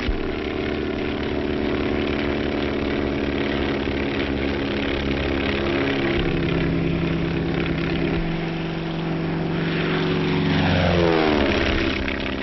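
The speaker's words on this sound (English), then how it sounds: "The planes must be light and fast so they can be easily maneuvered." Droning engines of light, fast propeller airplanes flying, steady and loud, with a rising-and-falling pitch shift near the end as a plane passes.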